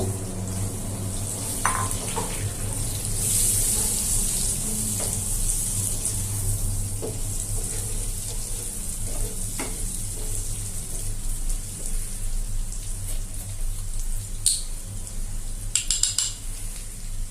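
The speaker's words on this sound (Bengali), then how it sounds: "এখন এতে আমি চিকেনগুলো অ্যাড করে দিব।" Chicken pieces fry in a pan with softened capsicum, giving a steady sizzle with occasional utensil clinks and stirring scrapes, moderately close and with no one talking.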